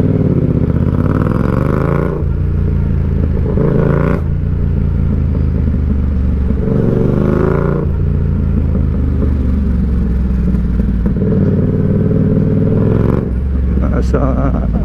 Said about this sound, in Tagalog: Ang ganda na tunog ni MT-07.